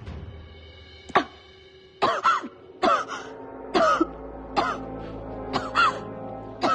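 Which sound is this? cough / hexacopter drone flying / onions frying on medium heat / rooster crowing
cough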